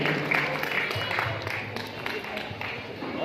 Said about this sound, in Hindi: जोरदार तालियां हमारी नवीन कार्यकारिणी के लिए।